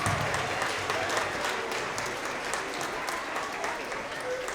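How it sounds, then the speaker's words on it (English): An audience at a school award assembly applauds in steady, dense clapping that fills the room and slowly eases off, with some voices mixed into the crowd noise. "Give them a round of applause."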